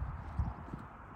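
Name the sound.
horses' hooves clip-clopping at a riding event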